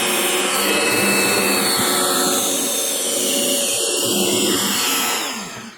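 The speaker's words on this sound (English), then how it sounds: "I'm going to go to the pillar drill and do it proper" A pillar drill bores a 10 mm hole through a guitar body, a loud steady whirring grind holding constant for several seconds before tapering off at the end.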